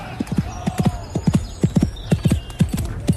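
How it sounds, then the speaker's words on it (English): Horse galloping with rapid rhythmic hoofbeats in quick repeated clusters, close and prominent throughout, with a faint neigh. "When my horse Chiquito bolted"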